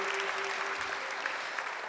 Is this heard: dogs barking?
no